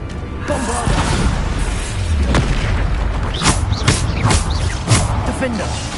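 Bombarda spell explosions in the video game Hogwarts Legacy, a run of booming blasts that come faster toward the end, mixed with other combat effects and a voice shouting spell names.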